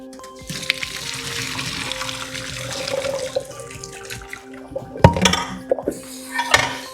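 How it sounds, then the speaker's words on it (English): Running cold tap water splashes steadily over cooked lo mein noodles for several seconds, then gives way to a few sharp clatters of dishes or a pot in a sink. "Hit those with some cold water to get them to stop cooking"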